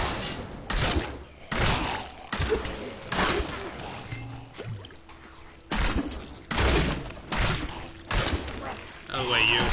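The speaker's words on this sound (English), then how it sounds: "Ah, crap, they're breaking down the doors." Enemies batter and break down doors in a dark fantasy action game, with a series of heavy bursts of thuds, slams and crashes separated by quieter gaps.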